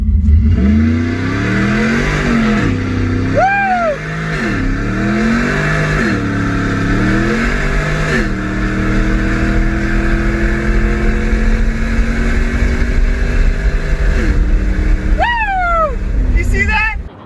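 A 5.7 Hemi V8 in a truck, fitted with short equal-length headers, revs repeatedly and loudly up close, its pitch sweeping up and falling back several times over a steady idle, with voices talking over it.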